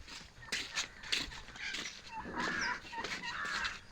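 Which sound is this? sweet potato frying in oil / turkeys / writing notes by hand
turkeys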